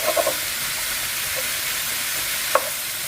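Sausage and hamburger meat sauce for lasagna sizzles steadily in a pan, with a few soft scraping stirs near the start and a sharper clink of the utensil later.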